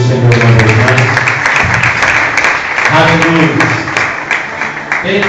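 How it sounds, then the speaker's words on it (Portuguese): Church congregation at an anniversary Sunday service claps loudly and steadily for several seconds, with a voice speaking over the applause. "Aplaudam o nome do Senhor uma vez mais."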